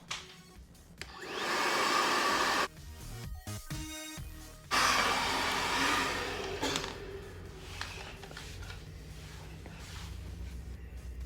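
A hair dryer with a diffuser attachment blows a steady broadband whoosh, cut off briefly near the midpoint and then restarted, running loud and close with no talk over it.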